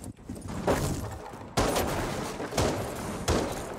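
Gunfire in the Rainbow Six Siege game, with several sharp, loud shots or short bursts at irregular intervals over a constant noisy background.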